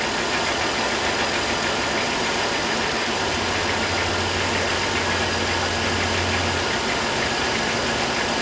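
A Dodge 3.3 V6 engine idles steadily after a head gasket install, a constant close mechanical hum with a faint ticking lifter clatter, no talk.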